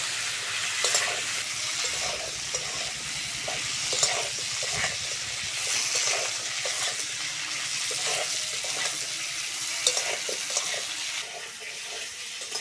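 Raw plantain pieces added to already-fried potatoes sizzle steadily in a pan of hot oil for a light fish curry, with soft stirring clinks over the close, continuous crackle.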